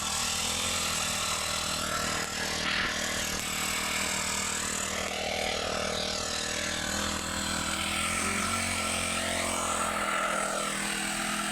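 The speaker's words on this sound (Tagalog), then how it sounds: "nag-grass cutter yung mister ko guys ayan, nag-grass cutter" A grass cutter runs continuously with a steady, loud motor drone and a buzzing tone that wavers slightly as it moves over a farm plot, with no talking over it.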